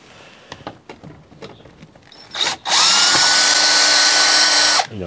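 A power drill backs screws out of a timber shelf in a polytunnel: a few faint knocks and taps, a short whine, then a loud, close, steady high-pitched drill run lasting about two seconds before stopping.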